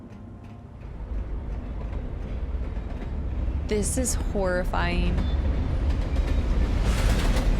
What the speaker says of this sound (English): The train going on the top of this.